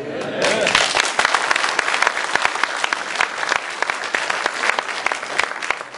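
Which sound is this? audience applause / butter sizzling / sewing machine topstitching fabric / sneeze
audience applause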